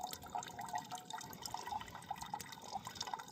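Water dripping from a camel bag hung up at a forest campsite, a gravity-fed trickle falling as a steady run of small, quiet drips over faint outdoor background.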